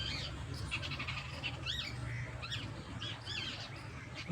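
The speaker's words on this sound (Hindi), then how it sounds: "कई तरह की चिड़िया बैठी हुई हैं।" Many small and large birds in a village at morning or evening, calling together in repeated squawks and chirps, some nearer and some farther, over a constant background murmur.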